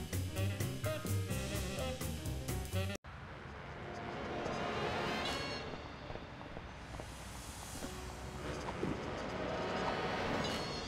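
Train rolling on rails in the Sam & Max video game, a steady rumbling clatter with occasional squeal that follows a short burst of music, continuous and fairly close.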